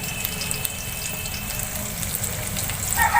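Chopped onion sizzles as it fries in hot oil while biryani is prepared, a steady broadband crackle with a short brighter burst of sizzle near the end.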